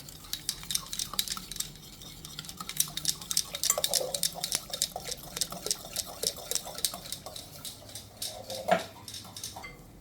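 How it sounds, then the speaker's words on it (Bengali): A whisk clinks and scrapes steadily against a bowl while mango sherbet with a little ginger juice is stirred, with rapid, fairly close metallic ticks and faint liquid sloshing throughout. "এবার আমি এই হুইসটা দিয়ে এরকম করে একটু ঘেটে নেবো"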